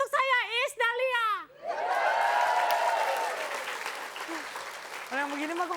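A studio audience at a comedy show breaks into applause after a performer speaks, a broad burst of clapping that swells and then fades, with talking before and after it.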